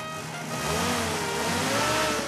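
Engine of a vintage Jeep Willys off-road vehicle running close by, a steady mid-pitched motor hum that rises and falls slightly as it revs, heard alone without voices.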